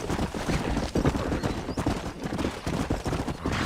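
Horse hooves clip-clop in quick, uneven beats in the rural video game GTA da Roça, fairly close and moderately loud, with scattered gunfire-like pops in the mix.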